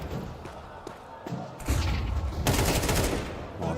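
Rapid AK rifle fire in Counter-Strike 2 during a G2 vs FURIA esports match, a dense burst of loud shots and thuds running through the clip with a heavier volley near the end.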